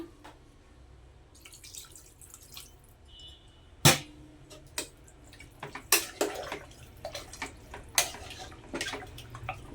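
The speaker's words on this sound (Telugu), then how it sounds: "దీంట్లో ముక్క మునిగేంత వరకు నీళ్ళు పోసేసుకోవాలి" Water splashes and drips into a pot of mutton gravy in scattered bursts, fairly quiet, with no talking.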